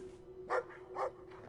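Dog barking in the video game Brothers: two short, moderately loud barks about half a second apart, set against a steady background hum.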